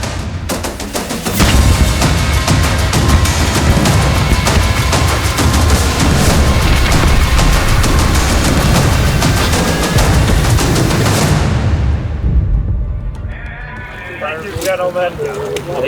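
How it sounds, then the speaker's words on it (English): Air cannon explosion effect fired inside a bunker on a WW1 film set, a loud sustained roaring blast that fills the space for about ten seconds before fading into quieter clattering and ringing debris sounds. "they're going to be sending out this explosion that goes through the door, the windows"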